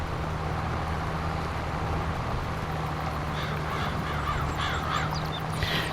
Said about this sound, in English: The old birds looking for the worms.